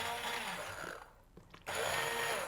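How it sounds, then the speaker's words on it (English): An immersion blender whirs loudly through soup in a pot, a steady motor drone that drops out briefly as it is lifted, then roars back on. "now I'm going to use the immersion blender just to make it creamy"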